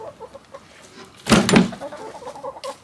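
Backyard hens cluck softly in short bursts, with a louder flurry of clucking and squawking near the middle, close by and outdoors.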